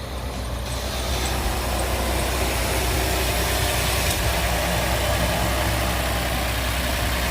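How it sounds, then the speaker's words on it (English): A Ford EcoBoost engine idles steadily just after a coil replacement, a continuous, close, even engine rumble with no talking over it. "That's actually a lot smoother than this thing's been idling when it's fired up for quite some time."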